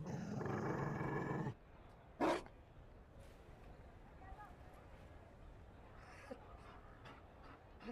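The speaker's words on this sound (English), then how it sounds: "You found a dog?" A dog in a fantasy video game gives a short, gruff growl after a loud burst of game noise, set against quiet ambience and faint in-game sounds.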